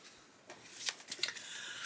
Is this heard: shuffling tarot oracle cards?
yes